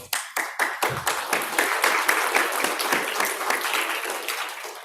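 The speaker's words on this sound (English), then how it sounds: "I just want to extend one last round of applause to everyone here." A room of attendees at a university program's closing ceremony breaks into applause, starting with a few distinct claps that quickly swell into a dense, continuous round of clapping heard up close.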